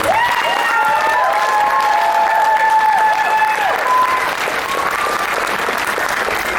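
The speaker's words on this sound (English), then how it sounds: "So please help me give them one more round of applause." Sustained applause from a middle school concert audience after a band performance, loud and dense throughout, with some whoops and cheering rising above the clapping.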